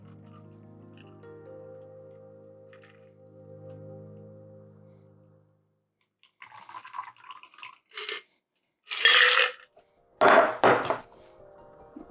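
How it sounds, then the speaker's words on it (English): Rum eggnog cocktail is strained from a shaker and poured into a glass: a low steady hum first, then a brief quiet before several sharp drips, clinks and knocks of ice and glass close by. "Strain and pour."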